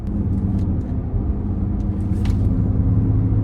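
A Genesis GV80 SUV with a 3.0 diesel engine is driving, giving a steady, continuous low engine and road rumble from inside the cabin, with no talking.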